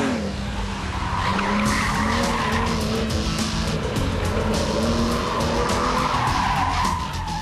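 A Datsun 240Z rally car skids and slides on a rally stage, with loud sustained tire squeal and a revving engine whose pitch rises and falls across several seconds.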